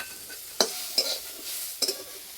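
Ginger-garlic paste stirred into hot oil in a pan while making cauliflower chop filling, with a soft continuous sizzle broken by three or four sharp spoon scrapes and clinks against the metal, close and fairly quiet.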